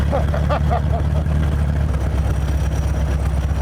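A vintage Indy race car with a big exhaust idles loudly and close by, a deep, steady, throbbing rumble, with a short burst of talk near the start.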